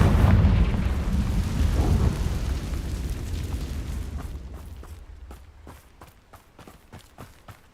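A Confringo spell blast in Hogwarts Legacy: a loud, rumbling explosion that swells and slowly fades, followed by light, rhythmic footsteps running.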